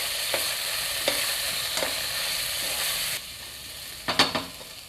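Goda masala, turmeric and chili powder sizzle in oil with ground paste as a spoon stirs, making a steady hiss with a few light scrapes and a cluster of clinks near the end.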